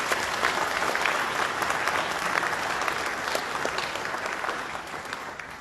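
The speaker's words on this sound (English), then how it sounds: "So if I can have a round of applause for them as well." Sustained applause from an audience at a 50th anniversary event marking the closure of the Cornwall Mine, steady and dense clapping throughout with no talk over it, easing slightly toward the end.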